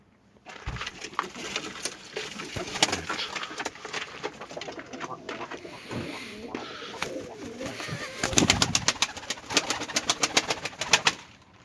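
A Turkish tumbler pigeon coos softly and repeatedly at close range, low rolling calls with rustling and light tapping around them.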